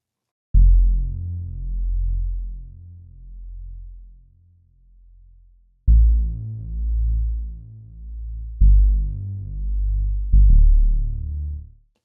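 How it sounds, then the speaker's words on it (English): A deep synth bass plays a slow sequence of low sustained notes, each struck cleanly and swelling then fading, alone with no other instruments or voices. "this sound right here is what I use for the bass"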